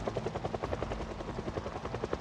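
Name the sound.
helicopter flying overhead in Project Zomboid video game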